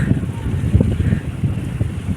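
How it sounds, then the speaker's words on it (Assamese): Sea wind gusting steadily at the coast by Diu fort, a low rumbling buffet against the microphone with soft surf-like wash underneath, continuous and fairly close. "কি ধুনীয়া বতাহ"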